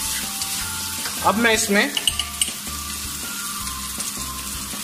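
Finely chopped onion fries in a pan for noodles with a steady broadband sizzle, close and continuous, with a brief burst of stirring clatter near the start. Someone speaks over it.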